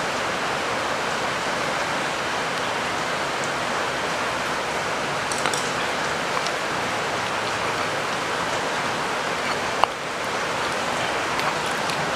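Steady rain pours down in a dense, even hiss throughout, close and loud, with no voices and only a couple of faint drips or taps.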